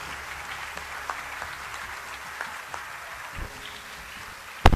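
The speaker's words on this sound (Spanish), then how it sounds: "¿Qué tal si damos un aplauso a nuestro Dios?" A church congregation at a Spanish-language service claps together, a steady, moderately loud wash of applause that fills the room without voices.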